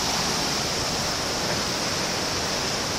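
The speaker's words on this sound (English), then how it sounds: "there's a lot of volume, a lot of water right here coming down through this river." Heavily aerated water of the Upper Rogue River at Natural Bridge in Oregon rushes in a loud, unbroken roar, dense and close with no gaps.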